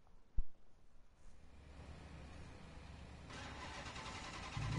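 A car engine in Need for Speed Rivals starts with a sharp click, then settles into a low, steady hum that gradually builds in loudness, with no voices.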